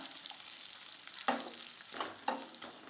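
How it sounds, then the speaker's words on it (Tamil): Soft sizzling of onions sautéing in butter in a pan, with a few scraping stirs of a spoon, fairly quiet and close. "இதை சேர்த்து நல்லா வதக்கி விட்டுக்கலாம்"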